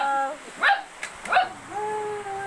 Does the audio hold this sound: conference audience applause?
no